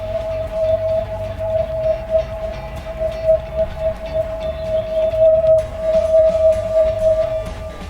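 A sensory toy gives a sustained, steady whistling tone over a rumbling, fluttering background, loud and close for several seconds without any speech.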